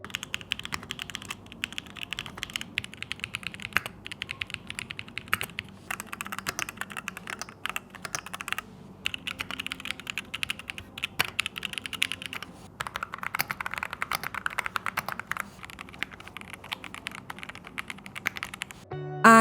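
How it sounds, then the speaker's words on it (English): Steady, rapid typing on a custom-built mechanical keyboard with tactile switches, dense clacking keystrokes running continuously and close up with no talking. "Here's a sound test with my keyboard configurations"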